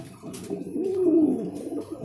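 A racing pigeon gives one low, rolling coo up close, swelling and falling over about a second, with faint rustling around it and no talk.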